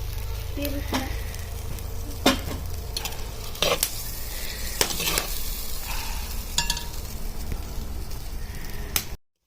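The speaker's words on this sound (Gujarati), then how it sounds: "સોયાબીન પણ નાખી દો અને થોડું તેલમાં થોડા ફ્રાય થઈ જવાનું" Soybeans sizzling and frying in oil in a clay pot for khichdi, with a steady close crackle and occasional sharp scraping clinks of a spoon stirring.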